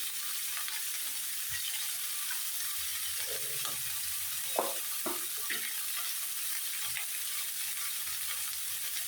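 Vegetables cooked with turmeric powder and salt fry in a pan with a constant hiss, while a few soft stirring scrapes and taps come through in the middle.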